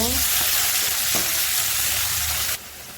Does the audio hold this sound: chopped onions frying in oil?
yes